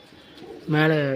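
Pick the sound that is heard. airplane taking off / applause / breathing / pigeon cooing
pigeon cooing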